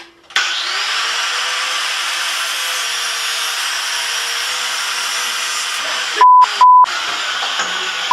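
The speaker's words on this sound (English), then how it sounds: "I like to use my angle grinder to sharpen the spoon." Angle grinder running steadily against a metal spoon to sharpen it, a loud continuous whine starting abruptly after a brief silence, interrupted near the end by two short electronic beeps.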